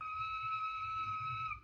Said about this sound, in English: Dorothy blew the little whistle she had always carried around her neck